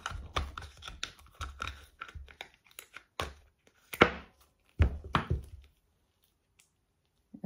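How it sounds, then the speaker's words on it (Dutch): Scissors snip open a package in an art studio, a quick run of close, crisp cuts and crinkles, then a few louder tearing snips before quiet. "Ik ga het gewoon even zo openknippen."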